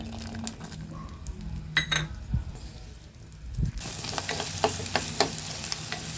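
Onions dropped into hot oil in a pan for a fish curry base, giving a soft sizzle with stirring and scraping clatter, louder and brighter in the second half.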